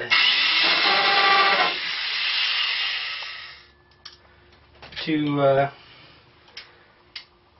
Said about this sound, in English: I push the drill a little bit